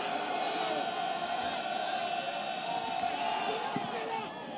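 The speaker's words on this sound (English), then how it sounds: "You can hear the reaction from the crowd" A football crowd at a college homecoming game between CWRU and Allegheny College reacts to a good 35-yard field goal, a steady roar of cheering and chatter filling the whole stretch before easing slightly at the end.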